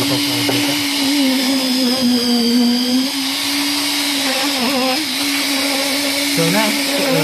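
A concrete vibrator compacting fresh concrete mix in a reinforced beam mould hums steadily and loudly, its pitch wavering slightly as the probe works through the mix.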